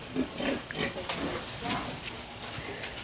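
A pig grunts in low, scattered snorts inside a piggery pen on a farm, fairly faint, with someone talking quietly in the background.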